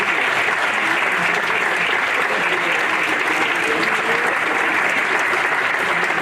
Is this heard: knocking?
no